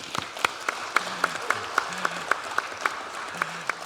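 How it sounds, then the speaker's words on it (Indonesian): A crowd at an IPO public expose for PT Jayamas Medica Industri Tbk gives steady rhythmic applause, distinct claps at a regular beat, with a voice talking faintly underneath. "Tepuk tangan untuk kita."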